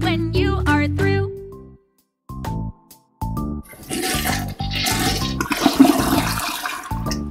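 In a Sesame Street children's potty-training video game, a toilet flushes with a loud, rushing, gurgling whoosh of water. It follows a few bright musical tones and runs for several seconds.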